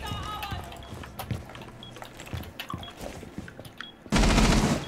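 Rapid bursts of automatic gunfire in the tactical shooter Rainbow Six Siege, close and punchy, with sharp isolated shots scattered throughout and a loud sustained blast of noise in the final second.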